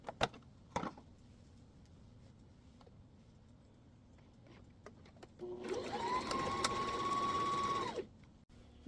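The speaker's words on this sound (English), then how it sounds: "Now we'll take this over to the sewing machine and we are going to stitch all the" A sewing machine stitches around the edge of a Christmas stocking, running in one steady mechanical whir of a couple of seconds after quiet handling noises and a few clicks.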